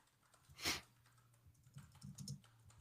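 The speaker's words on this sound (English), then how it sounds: "You might be hearing my clicking as I'm crafting prompts to use" A few quiet clicks and taps come from someone typing on a laptop keyboard, with one sharper key press standing out against a near-silent background.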